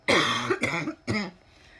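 Two or three harsh coughs in close succession, loud and near, with no talking.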